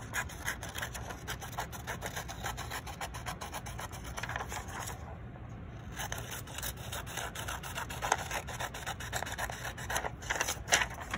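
Scissors trimming the white and gray edges of origami paper for a Kusama-style dog, a steady close rasping and snipping with soft rubbing, quiet and continuous.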